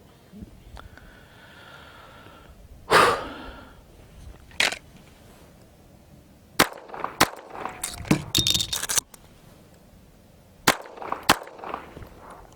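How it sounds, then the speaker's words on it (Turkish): Pistol shots at an outdoor target practice stage, drawn from the holster with a magazine change between pairs. Sharp, loud cracks come in short bursts with quiet gaps and some faint handling noise between them. "kılıftan çekip iki atış, şarjör değiştirip iki atış"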